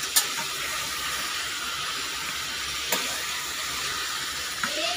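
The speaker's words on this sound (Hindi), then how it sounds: "बस इसके लिए हम इसे यूँ फ्राई कर रहे हैं।" Ingredients fry in a pan for pulao with a continuous close hiss and sizzle, broken by a few faint clicks of stirring.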